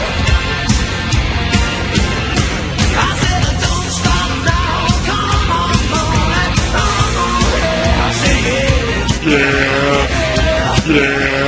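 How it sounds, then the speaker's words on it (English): Goat bleats repeatedly, loud and close, in dense overlapping calls that fill the whole stretch without talk. "That's an evil-looking goat."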